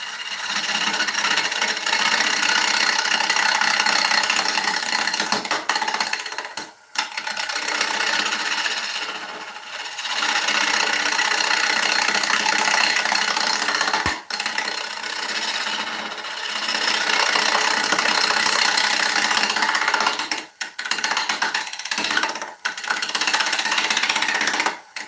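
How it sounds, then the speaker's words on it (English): A wood lathe spins a timber blank while a turning tool cuts it, giving a loud, steady rasping shear that runs in long passes, broken by brief pauses as the tool lifts away. "Let the lathe spin the timber, let the tool cut the wood"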